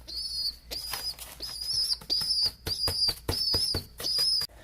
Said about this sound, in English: So yeah, that was the pigeon. But anyways, yeah, it chirps a lot.